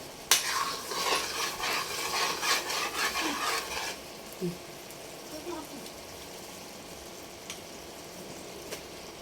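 A spoon stirs and scrapes through a thick biko mixture of sticky rice in a pot, a rough rhythmic rasping for about four seconds before it drops to near quiet with a few faint scrapes.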